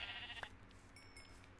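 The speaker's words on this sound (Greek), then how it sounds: "Για φέρ το πρόβατο." A sheep in the Minecraft Skyblock video game gives one short, clear bleat, with faint game ambience and no talk around it.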